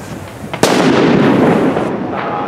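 One firework bursts with a sharp, loud crack, followed by a long, noisy rumble and crackle that slowly fades away, with a little faint background noise outdoors.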